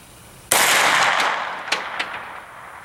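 A single loud AR-9 rifle shot at an outdoor range fires abruptly, followed by a decaying rolling echo with a couple of faint distant reports or impact sounds as it fades.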